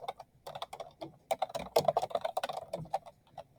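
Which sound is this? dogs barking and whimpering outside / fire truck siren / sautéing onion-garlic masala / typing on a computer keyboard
typing on a computer keyboard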